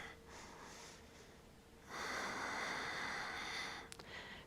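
A slow, deep breath taken during a yoga flexibility session, a soft airy inhale followed by a longer, fuller exhale, close and gentle with no speech.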